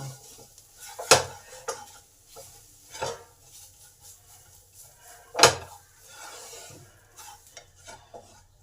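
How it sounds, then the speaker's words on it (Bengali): Spices being stir-fried for fish fingers made with rohu fish: several sharp spoon-and-pan scrapes and knocks stand out over faint sizzling, irregular and close, with no talk. "এবার এই মশলাগুলোকেও একটু ভালো করে কষে নেব"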